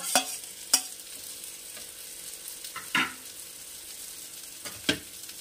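Egg frying with brinjal in a pan, a steady soft sizzle under a few sharp clinks of a spatula being stirred through it, close and alone with no talk.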